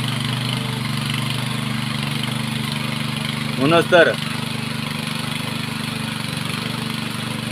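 Tractor engine idling and chugging steadily while ploughing a rice field in pouring rain, a constant low drone throughout with a brief spoken phrase over it midway.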